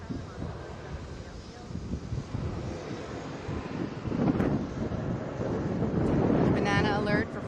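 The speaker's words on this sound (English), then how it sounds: "Coming in from Newark. This is flight 2575," A Boeing 737 arriving from Newark at Atlanta passes overhead as a broad, rising jet roar that swells steadily louder toward the end, mixed with outdoor wind noise.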